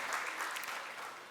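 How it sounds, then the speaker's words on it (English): Short burst of audience applause at a community STAR meeting, a dense even patter of clapping hands that holds steady and fades slightly toward the end. "Shanti the Brigade, give her a round of applause."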